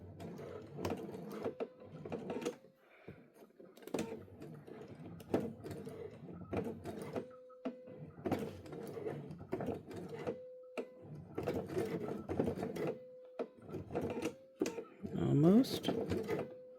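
A sewing machine stitches around a zipper clutch bag in bursts of rapid mechanical whirring separated by short pauses, close and clear, while a person talks throughout.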